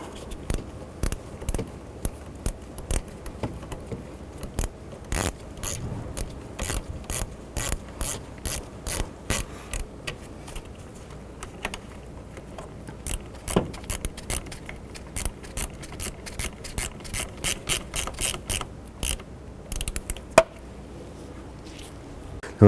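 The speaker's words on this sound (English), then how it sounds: "we're just going to use our 10mm wrench to go ahead and snug these up" A 10 mm ratchet wrench snugs the battery terminals on a 2007-11 Honda Civic, giving quick bursts of sharp metallic clicks in uneven runs, close and fairly quiet, with no talk.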